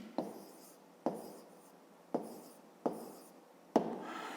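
A pen writes numbers by hand on paper while working a fifth-grade multiplication problem, five quiet separate scratchy strokes spaced about a second apart, close and faint in a silent room.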